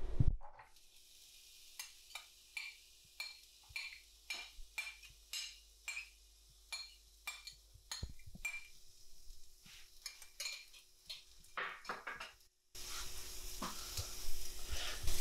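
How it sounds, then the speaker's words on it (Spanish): Chopped onion fries in olive oil in a pan over moderate heat while a utensil stirs it, giving repeated light scrapes and clinks, then a steady, louder sizzle near the end. "Sofreímos durante unos minutos, removiendo de vez en cuando."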